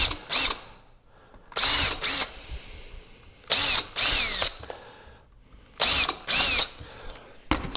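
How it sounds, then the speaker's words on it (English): Power drill boring pilot holes into wood, about five separate loud whirring bursts of a second or so each, with short quiet pauses between them, close to the microphone and with no talking. "We're going to drill some pilot holes here."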